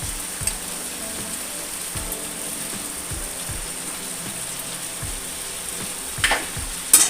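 Fish head frying with salt and turmeric for a Bengali katla fish head and kochu greens dish, a steady background sizzle punctuated by regular soft stirring strokes, with a few louder scrapes near the end.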